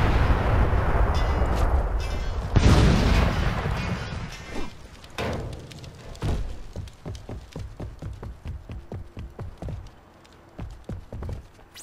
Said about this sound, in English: Barrels like this are highly explosive, Agent, so be careful not to be within the blast radius when you shoot one.